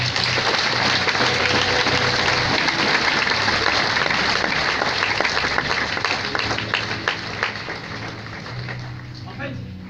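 A church congregation applauds with dense, sustained clapping that fills the room, then gradually thins and fades toward the end, with voices mixed in.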